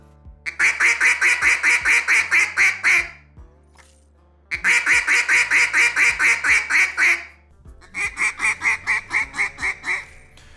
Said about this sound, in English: We're gonna throw the hand, catch the front of the note, and we're gonna blow it really fast